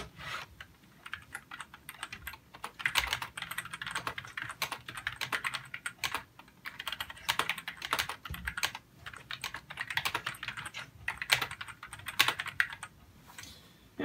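Fast, steady typing on the Apple Pro keyboard of an iMac G4, a dense stream of close, crisp key clicks with brief pauses, no voices.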